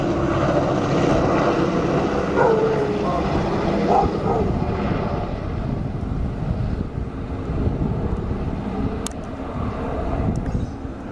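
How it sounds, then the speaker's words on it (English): A military helicopter passing overhead during a hurricane aftermath, a low, steady rumbling drone mixed with wind noise on the microphone, holding fairly even as it goes by. "there's a military helicopter passing"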